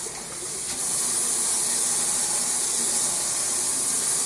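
An Oreck Orbiter sprayer hisses out a steady, close spray of cleaning solution onto dirty carpet for extraction, building within the first second and then holding even.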